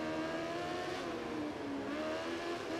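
Racing motorcycle engine in the MotoGP video game at the Brno circuit on a wet track, a continuous high-revving whine held near full throttle with slight pitch shifts, steady and moderately loud.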